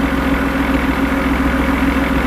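A Brabus G-Wagon engine idling while it warms up, a loud, close, steady low rumble with an even pulsing throb and no voices.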